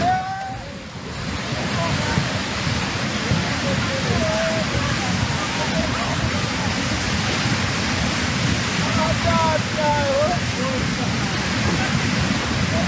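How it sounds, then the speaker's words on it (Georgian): A flooding river in Himachal Pradesh, India, bursts its banks with a loud, steady rushing roar of torrential water close by, while faint voices call out over it. "ჰიმაჩალ-პრადეშში მდებარე მდინარე მოულოდნელად კალაპოტიდან გადმოვიდა"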